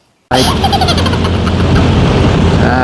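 A Suzuki Burgman Street 125 scooter engine starts abruptly after silence, then runs loud and steady with a buzzing, even drone close by.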